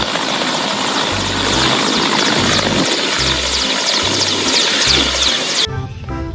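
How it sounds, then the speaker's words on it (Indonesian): A toy helicopter takes off with a loud, steady whirring buzz of small spinning rotors and motor, close and continuous, with low thumping pulses underneath before it cuts off near the end. "ini ada pesawat helikopter"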